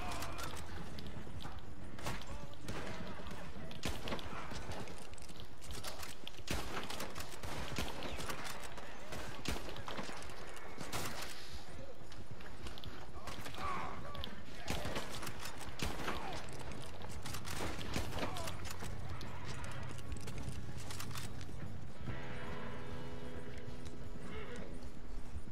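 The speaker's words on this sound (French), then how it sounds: "Je tire sur mon cheval, ça va pas mieux." A horse in the Red Dead Online western video game clip-clops steadily at a brisk pace for the whole stretch, with occasional whinnies, mixed with sharp bursts and people talking.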